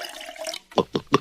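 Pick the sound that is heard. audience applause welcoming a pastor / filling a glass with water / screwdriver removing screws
filling a glass with water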